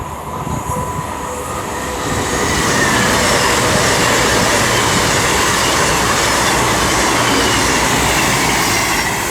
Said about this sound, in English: concluding everything is going to be an Avanti West Coast 221 Super Voyager